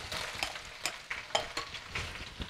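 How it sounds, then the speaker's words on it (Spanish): Onion dropped into hot oil over low heat in the same pan used for squid, a quiet sizzle with intermittent stirring clatters, close and soft with no talking. "En el mismo aceite y con el fuego ya bien bajo, le vamos a echar la cebolla."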